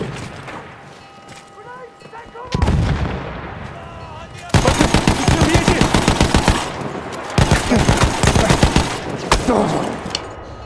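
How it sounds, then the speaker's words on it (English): Heavy artillery barrage and rapid gunfire on Cape Helles in Battlefield 1, with dense, loud bursts of automatic fire and booming impacts coming in waves after a quieter opening. "The enemies are being halted by our artillery barrage."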